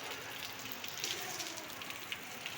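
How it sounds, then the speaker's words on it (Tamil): Heavy rain pours down during a storm in Chennai, a dense, even hiss of falling water with occasional louder drops, steady throughout and free of speech. "செம்ம மழை பெய்யுது."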